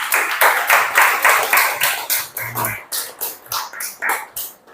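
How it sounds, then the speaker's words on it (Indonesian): Children clapping together in a classroom, a series of rhythmic bursts of applause in unison, loud and close, with a brief low thump midway. "Kita beri aplaus buat kalian semua hari ini anak-anak"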